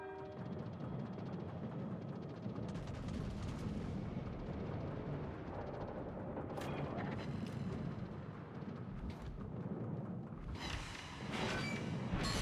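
Broadband rumbling booms from a battleship Preussen firing a gun salvo in the naval game World of Warships, a sustained heavy roar with sharper bursts near the end, loud and close, no talk.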